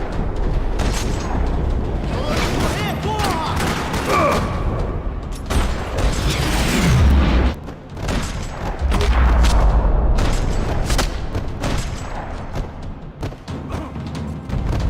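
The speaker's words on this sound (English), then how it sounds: "Another parking lot rattling with gunfire." Bursts of gunfire crack and thud through a parking lot in the video game Max Payne 3, with repeated shots, booms and mechanical rattles forming an ongoing firefight.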